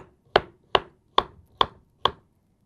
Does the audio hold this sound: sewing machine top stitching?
no